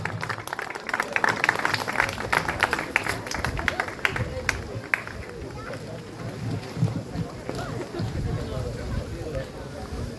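An audience at a koi show prize-giving applauds a winner with sharp, fairly close clapping that fades into softer scattered claps, with outdoor wind rumble and some talking mixed in.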